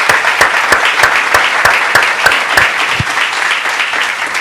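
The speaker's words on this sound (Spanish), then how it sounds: "Démosle un aplauso al Señor, hermano" A church congregation bursts into dense, sustained applause, many hands clapping loudly and continuously in a quick, roughly even rhythm with no voices rising above it.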